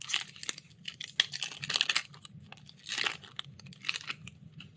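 Foil booster pack of Innistrad Crimson Vow cards being opened, close crinkling and crunching of foil in irregular bursts, no talking.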